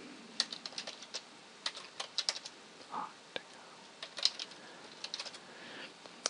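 Someone types a domain name on a computer keyboard: soft, irregular clusters of close key clicks with short pauses between bursts, quiet and alone.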